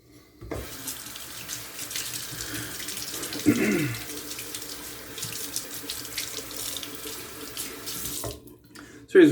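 Steady tap water running into a sink while a Rockwell 6c gunmetal safety razor is rinsed, a continuous close splashing stream with brief bursts where the blade passes under the flow, ending in a short clatter.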